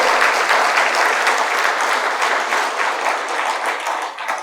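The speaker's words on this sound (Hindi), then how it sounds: "कृपया ताली के साथ स्वागत करिए।" A crowd at the Indore launch of a road safety motorcycle rally breaks into loud, sustained applause welcoming a visiting member of parliament, a dense roar of clapping that holds for several seconds before easing slightly.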